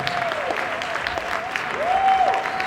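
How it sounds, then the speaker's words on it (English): Applause from an audience at a Beyond the Bars event greets a performer coming on, a steady wash of clapping with a sliding whistle-like tone cutting through it. "Give her a round of applause as she comes."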